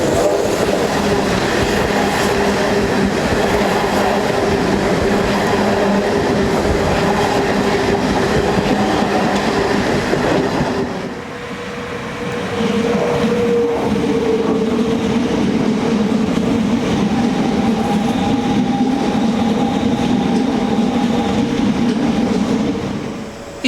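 A train rolls loudly through a curved station at Dumpton Park in Kent, a continuous rumble with clattering wheels that briefly dips, then returns with a faint squealing tone as the cars pass close by.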